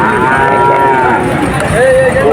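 A calf at a busy rural cattle market lows loudly and close, one drawn-out moo followed by a second rising call, with market chatter in the background.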